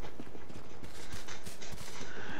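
Horse hooves clip-clop in the survival shooter H1Z1: a quick, steady run of hoof falls against a constant noisy game backdrop, with no voices.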